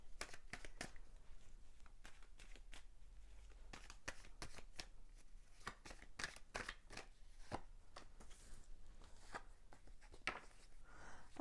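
Tarot cards shuffled by hand for a reading: a close, steady run of crisp riffles and soft slaps that repeat throughout, with no voices.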